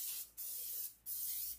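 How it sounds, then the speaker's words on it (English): Pam cooking spray misted into a cake pan held over a sink, two sustained hissing bursts with a brief pause between them, close and fairly quiet, no voices. "I'm just going to spray it with Pam just so it's easy enough to come out of the pan"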